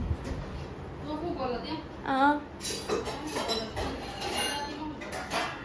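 Dishes, pots and cutlery clink and clatter in a home kitchen in a few scattered bursts, with a child and an adult talking over the clinking throughout.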